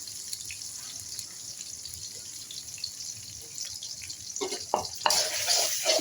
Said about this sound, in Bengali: চিচিঙ্গা দিয়ে ডিম দিয়ে ভাজি করব